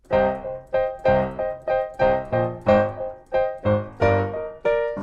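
Piano plays snippets of the vocal melody of Supertramp's "The Logical Song", roughly a dozen notes or chords struck at an even pace, each decaying before the next.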